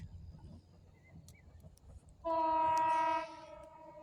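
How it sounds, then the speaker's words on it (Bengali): A train horn blasts once from the approaching Lalmoni Express, loud and steady for about a second, after quiet rumbling ambience, then fades back to a low background. "ট্রেনের হুইসেল আশা করি শুনতে পাচ্ছেন।"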